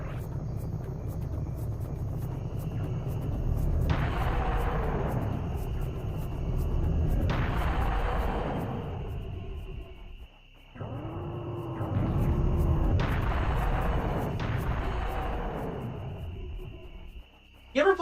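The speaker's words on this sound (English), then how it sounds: "we're just gonna keep using the cannon from now on" A cannon in a video game fires several times, each shot a deep roaring boom that swells and decays over a steady low rumble, with brief pauses between volleys.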